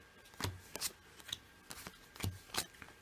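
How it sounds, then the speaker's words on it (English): Deck of cards shuffled for an eight-card tabletop game, a few crisp riffling bursts with quick flutters and soft taps between them, close and clear with no talking. "I'm going to shuffle up and hand out the 8 cards each"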